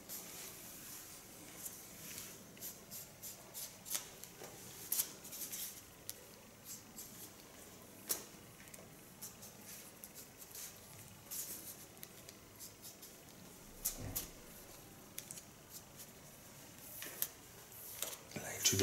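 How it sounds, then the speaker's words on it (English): Scissors snip through dry hair during a haircut makeover, giving faint, crisp, irregular clicks scattered over a quiet room background with no voice. "You can hear the hair is dry, because then you hear it a little bit more while it's being cut"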